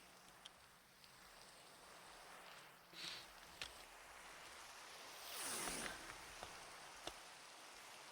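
Rain pattering steadily in Minecraft, with a faint swell of ambient noise partway through and scattered small clicks, no voices.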